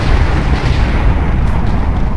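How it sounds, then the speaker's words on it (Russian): Continuous rumbling barrage of lightning strikes in Minecraft, triggered where an arrow from a bow hits the ground; dense, loud booming crackle with no pauses, heavy low-end rumble throughout. "как только вы куда-то попадете, в то место будет фигачить 1000 молний"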